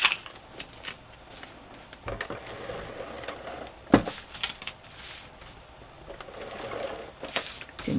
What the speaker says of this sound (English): I will use my ATG tape runner instead of wet glue so it won't wrinkle the paper.